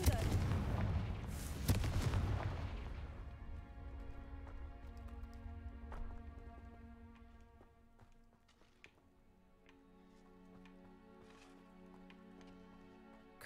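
Blasting spell explosions in a Harry Potter video game: a loud burst of crackling impacts and debris at the start, fading into a long ringing, chiming decay with scattered small tinkles.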